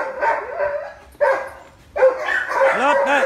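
A dog barking and yipping in a few close bursts separated by short pauses, with a person's voice mixed in between the barks.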